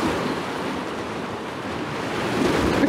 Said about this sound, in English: The steps leading out into sea and the water crashing over them.